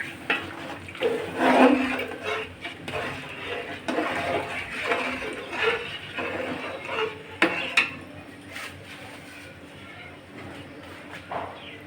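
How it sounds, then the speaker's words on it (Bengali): Hot water is poured onto sautéed rice in a cooking pot, making gurgling, splashing bursts mixed with clanks and scrapes of the pot and utensils, close and uneven in loudness. "গরম জলটা দিয়ে দিচ্ছি গরম জল"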